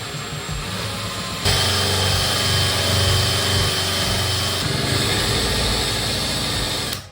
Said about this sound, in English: I'm going to be using a Forstner Bit to drill out some holes for these magnets to sit in.